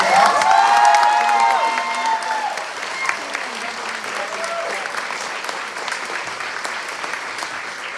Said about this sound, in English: Let's give our contestants a round of applause.